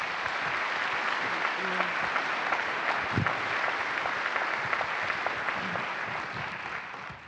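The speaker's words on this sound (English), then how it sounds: "Let's give them another round of applause" Sustained applause from an audience at a NASA commercial crew announcement honoring astronauts, a steady wash of many hands clapping with a few voices underneath.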